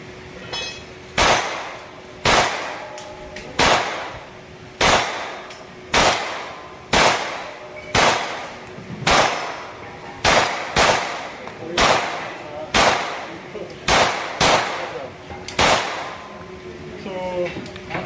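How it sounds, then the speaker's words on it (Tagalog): A TX22 pistol fires at a shooting range in a long series of sharp, loud single shots spaced about a second apart, close by and echoing. "try naman natin itong TX22. Firing."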